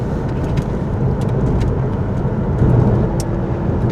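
A Porsche Boxster S 986 driving along a country road on a warm day, with a steady, loud engine and road drone that rises slightly near the end and no talking.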